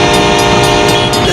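A train roars past a rail crossing, loud and close, with a steady rumble and horn tones.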